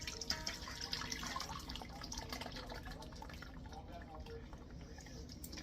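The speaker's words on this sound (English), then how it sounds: "I'm going to pour this back in here again so I can get a better strain." Homemade apple cider vinegar poured back through a fine mesh strainer, a steady trickling and dripping of liquid close by with a faint low hum beneath.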